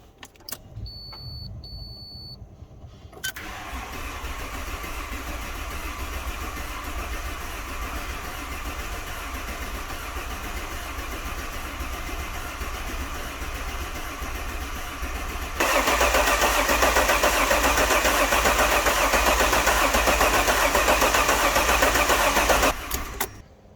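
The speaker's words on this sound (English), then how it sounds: "I'm just going to crank it over now, hopefully it will, and let's see if we can get some oil pressure." An Alfa Romeo 147 GTA engine cranks over without starting during a rebuild, a steady mechanical whirr that runs for a long stretch and grows louder partway through, with no talking.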